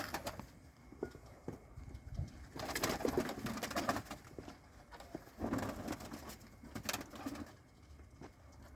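Pigeons coo softly during a pigeon-flying competition, their low murmurs repeating in uneven bursts over a busy outdoor background with some clattering.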